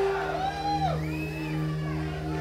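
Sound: crowd cheering at concert

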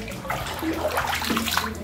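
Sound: stirring rice washing water fertilizer mix

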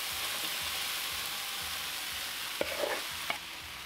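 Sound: hash browns sizzling in a preheated skillet

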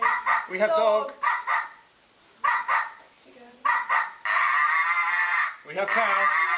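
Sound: dogs barking

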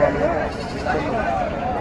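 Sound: goat bleating

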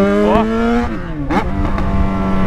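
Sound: Yamaha XJ6 motorcycle engine revving loudly

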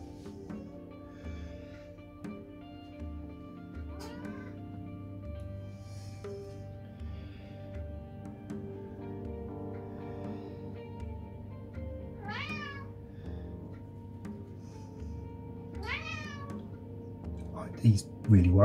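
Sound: cat meowing

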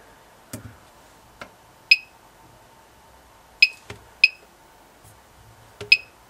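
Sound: uRADMonitor dosimeter clicking counts from radium dial watch

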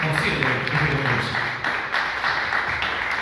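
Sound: audience applause at an award ceremony

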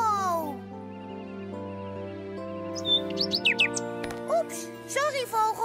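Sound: bird chirping in a cartoon

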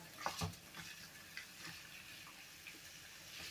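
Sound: food frying in a pan

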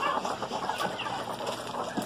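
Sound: bantam hen clucking

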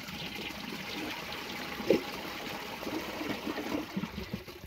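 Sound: Kohler Aquapiston toilet flushing, tank refilling

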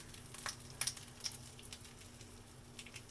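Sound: pomfret fish frying in oil in a pan

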